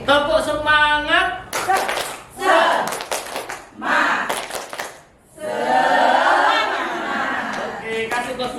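A group performs the tepuk semangat rhythmic clap in repeated bursts, hands striking in patterned sequences alongside chanting voices and brief laughter, close and loud with short pauses between rounds.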